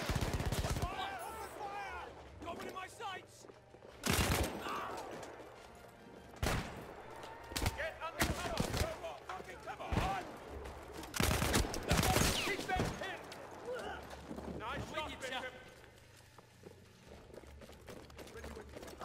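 Rapid bursts of gunfire in Battlefield 1, loud sharp shots firing in clusters and single cracks across a chaotic battle, with scattered voices underneath.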